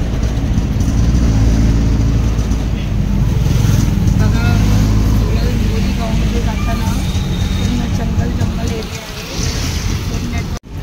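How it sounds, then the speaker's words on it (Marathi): Auto rickshaw ride from Ambivli station toward Mohili village: a loud, steady engine rumble and road noise fill the whole ride, with voices mixed in, dipping briefly near the end. "आता इथून मी ऑटो रिक्षा पकडून पुढे जाणार."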